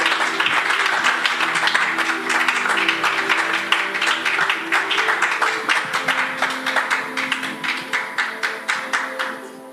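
A church congregation applauds their pastor, producing broad clapping that settles into a rhythmic, evenly timed beat of claps toward the end, with faint music and voices underneath.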